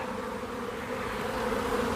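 A steady, close droning buzz of a swarm of honeybees, continuous and moderately loud, with no voices.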